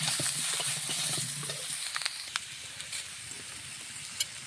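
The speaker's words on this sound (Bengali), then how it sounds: "বেগুনগুলো একটু ভেজে নিলাম," Eggplant pieces frying in a wok while being stirred, a soft steady sizzle with scattered scraping clicks from the stirring, close and fairly quiet throughout.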